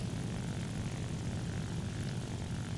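A World War II Ilyushin IL-2 propeller plane engine drones in War Thunder, a steady dense roar with heavy low rumble and no pauses.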